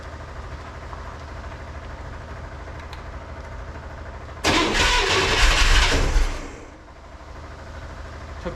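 A 1963 Corvair engine cranks over steadily, then catches with a loud burst of running for about two seconds before settling down, close by with no talk.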